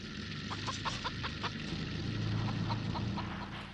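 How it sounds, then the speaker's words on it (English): A chicken confined in a cage, from the 1974 film The Texas Chain Saw Massacre, gives a series of short repeated clucks over a steady background hum, fairly close and moderately faint, with no talking. "It's the famous chicken in the cage."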